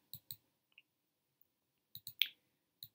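Crisp, faint computer mouse clicks heard close up in a quiet room: a quick pair, a lone soft tick, then another pair, a sharper click and a final single one.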